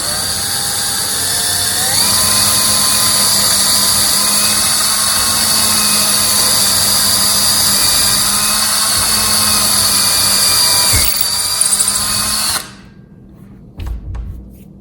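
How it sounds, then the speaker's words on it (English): A power drill bores a hole for a cabinet door handle, giving a loud, steady close-up whine that holds for about twelve seconds and then cuts off, leaving brief faint handling noise. "I'm just going to drill this one out and work on it first."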